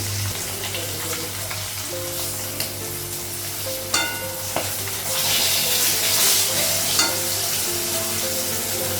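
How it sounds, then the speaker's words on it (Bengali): Steady sizzle of fish frying in hot oil, with occasional clinks and scrapes of a utensil and a constant low hum underneath; no talking. "এই মাছটা ভাজা হয়ে গেলে হয়ে যাবে"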